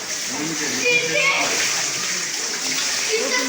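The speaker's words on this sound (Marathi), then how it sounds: "इथे गायमुखातून खाली इथे पाणी येतं" Continuous splashing rush of water pouring from a cow-mouth stone spout at the Rajapur Ganga springs in Konkan, close by, with voices talking over it.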